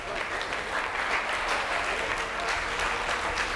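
Wedding guests at a celebration dinner burst into sustained applause after a toast, a thick, even wash of many hands clapping from a crowd that holds steady for several seconds with no talking.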